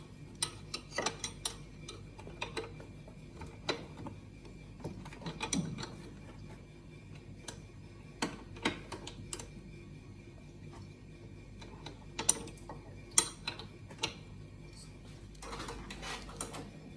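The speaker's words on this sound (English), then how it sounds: "with the 13mm wrench or spanner" A 13mm wrench ratcheting to tighten crash bar bolts on a BMW R1250GSA motorcycle, heard as quiet, close bursts of fine clicking. Short pauses break up the clicking, over faint background noise.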